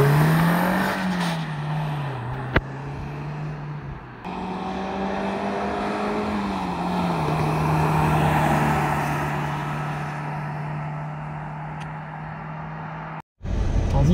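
Suzuki Jimny III 1.3-litre 16-valve 4x4 with short gearing driven at full throttle off-road, its engine droning steadily and close with a rising and falling pitch as it shifts, sustained almost to the end, no talking.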